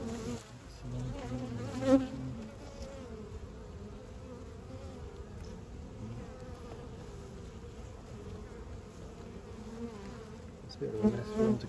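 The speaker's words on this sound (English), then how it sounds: "There's a good lot of bees up there." A dense, steady hum of many honey bees buzzing close by, continuous throughout with a couple of louder swells.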